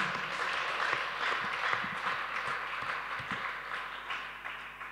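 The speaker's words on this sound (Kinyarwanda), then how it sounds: "Komera Imana yawe amashyi menshi cyane." Applause from a church congregation during a sermon, a steady broad wash of clapping filling the room at moderate loudness, with no speech over it.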